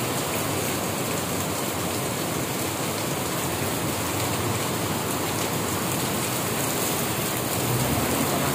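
Heavy rain from Typhoon Ulysses pours down in a dense, unbroken hiss, loud and close, with a faint low rumble underneath and no voices.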